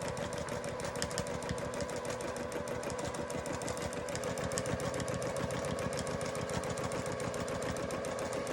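A sewing machine stitches steadily during free-motion machine quilting, a fast, even mechanical chatter that runs loud and continuous throughout with no pauses.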